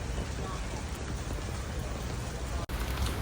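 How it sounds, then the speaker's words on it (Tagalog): Steady rain falls on a hard surface, a dense continuous patter with a brief dropout near the end. "Umuulan"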